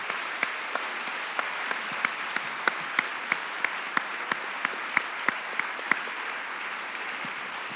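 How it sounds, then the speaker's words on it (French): Audience at an education talk on the brain and teaching breaks into steady applause, a dense wash of many hands clapping with a few sharper claps standing out, sustained throughout at moderate level with no talking. "Je vous invite à les applaudir chaleureusement."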